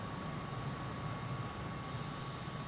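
Steady broadband jet engine roar of a MiG-21 in Microsoft Flight Simulator 2020, a continuous even rumble with a faint high whine, holding at moderate level with no talking.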